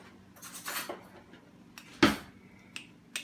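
Light metallic clinks and scrapes of a smaller spoon picked up and knocked against dishes in a kitchen during chili preparation, with one sharp clack in the middle and a few faint taps after.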